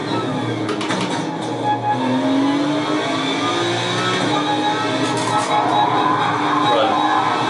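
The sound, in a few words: race car revving and tires screeching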